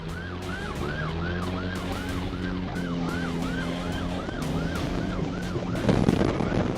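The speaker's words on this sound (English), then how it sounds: "he activated his lights and sirens to initiate a stop" A wailing police siren sweeps up and down in a steady repeating cycle, loud and close, over the low rumble of a patrol car engine during a pursuit.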